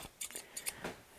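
Several quick, crisp snips of scissors cutting through fabric, with short pauses between cuts, close up and fairly quiet.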